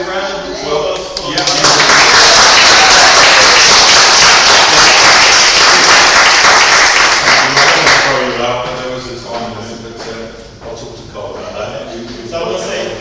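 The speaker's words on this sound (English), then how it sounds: "Can we have a round of applause for" Dense, loud audience clapping at a book signing event swells for several seconds and then fades, with voices rising through the tail end.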